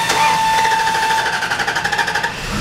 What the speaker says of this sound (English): That's our extended crank.